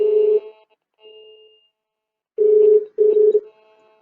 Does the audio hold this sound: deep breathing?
no